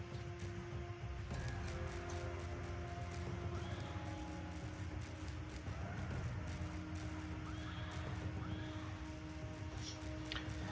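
Cuirassier cavalry in a video game battle fill the scene with a dense, continuous din of galloping hooves and occasional horse neighs, blended with steady clashing background noise throughout.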